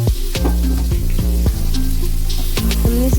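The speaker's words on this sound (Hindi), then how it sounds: "हमने इधर पैन को रख के हमने इसे तेल गरम कर दिया है" Onions frying in hot oil in a pan while cooking chicken curry at home: a steady close sizzle and crackle runs throughout, with a few brief knocks and stirring scrapes, and no voices.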